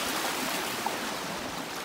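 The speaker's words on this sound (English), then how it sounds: "Look at these waves." Continuous broadband wash of waves on a Lake Michigan beach, a steady soft hiss with no distinct breaks, fairly quiet and without voices.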